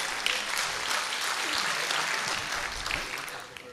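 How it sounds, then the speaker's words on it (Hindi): An audience claps steadily at a Hindi comedy poetry gathering (hasya kavi sammelan), a dense, sustained wash of applause that holds at an even level and eases off slightly at the very end. "तालियां बजाने"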